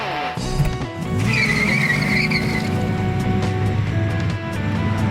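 A Pontiac Firebird Esprit performing stunt driving tricks, with loud, sustained tire squeal over a roaring engine, the screech rising and holding for several seconds up close.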